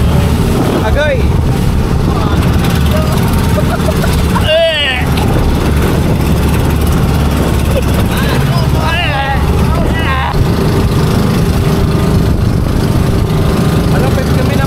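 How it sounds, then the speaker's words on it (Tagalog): A small boat's motor drones loud and continuous on the open sea near a reef and sandbar, a steady rough engine roar with wind and water noise, and voices faintly talking beneath it. "Maingay ang likod dahil maingay ang motor."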